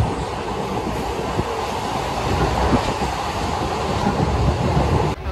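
Passenger train running between Jhansi and Mahoba, heard from inside a carriage as a loud, steady rumble with rhythmic wheel clatter, continuous throughout.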